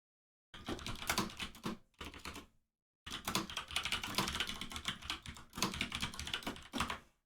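Rapid typing on a computer keyboard clatters in quick bursts of clicks, with a brief pause before a longer steady stretch of keystrokes, close and alone.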